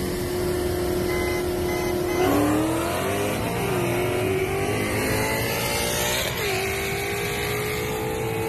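A boosted Ford Mustang GT with headers revs loudly on its own, the engine note climbing and dropping through several sharp throttle blips and holding a steady raspy drone between them.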